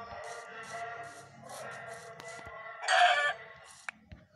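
Chickens cluck and crow in the video game Lokicraft: a run of short, nasal clucks and calls, with one louder, longer crow-like squawk near the middle and a few faint clicks from play.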